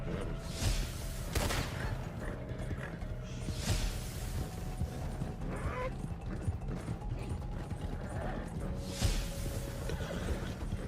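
A horse whinnies amid steady game noise during a horse race in Red Dead Redemption 2 Online, with mechanical clatter and rumbling hoofbeats running underneath throughout.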